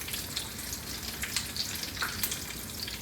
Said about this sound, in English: Let that sear a little bit.